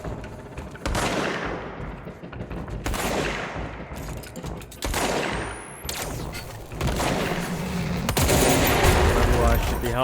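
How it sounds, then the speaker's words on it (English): Gunfire in the action video game Control, with dense, rapid bursts of shots and booming impacts that keep going loud and close through the whole stretch. "Gunfire."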